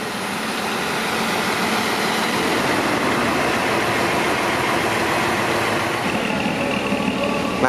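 The engine of a large intercity coach, the Peluru Malam, idles and rumbles steadily close by at a shelter, with continuous broadband noise throughout.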